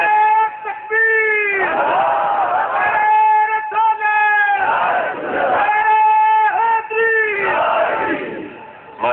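A large crowd at a religious gathering shouts a slogan in unison, in long, loud, sustained chanted responses that repeat several times with short breaks between.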